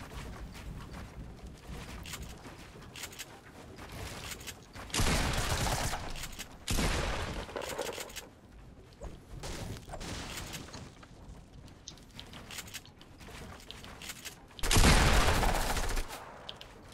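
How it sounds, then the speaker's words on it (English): Bursts of rapid SMG gunfire crackle in a Fortnite-style 1v1 video game fight, with several louder volleys separated by quieter stretches of game noise. "What kind of gun are you using? SMG."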